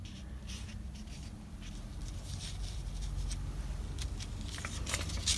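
Page of a book being torn by hand for a Christmas junk journal, a series of brief crackly paper rips over a steady low room hum, fairly close and moderately quiet.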